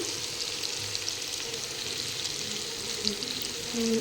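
Prawns fry in a pan in a home kitchen, giving a steady, dense sizzle that holds at an even level throughout, with a few faint clinks near the end and no talking.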